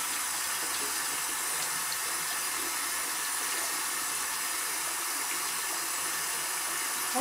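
Steady rush of bath water running from a tap while a baby is washed, a continuous close hiss with no pauses.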